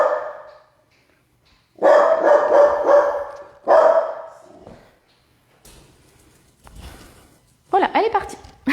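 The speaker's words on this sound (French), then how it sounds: "Il y a un chien qui passe devant la maison" A dog barks as someone passes outside a house, a few bursts of loud close barking separated by quiet gaps, with someone speaking at times in between.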